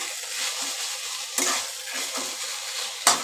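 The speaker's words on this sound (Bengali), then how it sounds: "নাড়াচাড়া করে নিচ্ছি ভালো করে নেড়ে নিচ্ছি" Jute leaves cooking in a pan are stirred and turned, giving a soft sizzle with rhythmic scraping strokes and a sharp clink of the spatula on the pan near the end.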